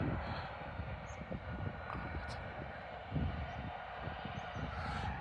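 Airplane engines roar as a steady, broad drone at Leeds Bradford Airport. The engine noise is fairly near and holds constant throughout, with a few faint higher tones above it.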